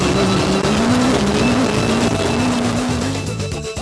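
An off-road race car in the 2009 Nissan Sugarbelt 400, heard from inside the cabin with no windscreen: a loud, continuous engine drone rising and falling with gear changes, wind and rumble throughout, easing slightly at the end.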